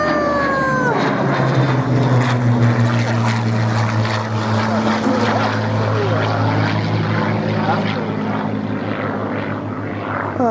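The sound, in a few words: small plane flying overhead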